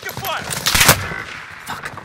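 Burst of gunfire in the video game Warzone, a loud sharp volley of shots over about a second amid gameplay sounds, with a player's voice heard around it.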